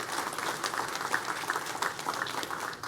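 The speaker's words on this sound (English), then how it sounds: "Let's give him a round of applause," Faint, distant applause from a county government audience honoring a commissioner, a thin patter of scattered clapping.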